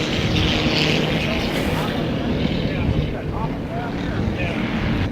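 Vintage racing boat engines roaring at a powerboat race at Moses Lake, a loud sustained drone of passing hulls, with a commentator talking over the engine noise.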